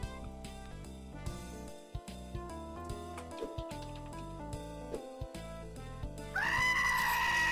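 A goat in the idle video game Bloobs Adventure Idle lets out a loud, wavering bleat at the end, following a stretch of bouncy game music.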